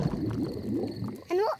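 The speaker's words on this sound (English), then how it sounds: "My tummy rumbling is one of the best sounds of nature." A cartoon stomach rumbles loudly with low, gurgling, squishy bubbling that wobbles in pitch, ending in a brief higher warble, heard alone at a nighttime campfire.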